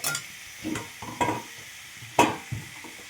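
Fish with pointed gourd and potato warming in a pan: soft sizzling broken by several short clinks and stirring scrapes, close and fairly quiet, with no voices.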